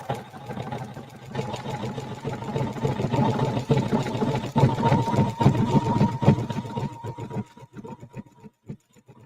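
A sewing machine stitching appliqué onto a beach towel runs in a steady, fast mechanical whir with rhythmic needle clatter. It stays close and loud before slowing into a few separate stitches near the end.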